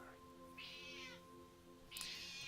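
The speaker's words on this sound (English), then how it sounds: "Hopefully you can't hear my cat meowing in the background" A pet cat meows twice in the background, each call drawn out for about half a second, against a steady electronic hum with no talking.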